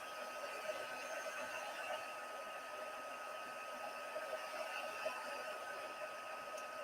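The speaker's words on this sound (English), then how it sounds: "I always love seeing heat embossing take place." Heat gun blowing hot air over a stamped card for heat embossing, a steady close whooshing drone with no break, without talk.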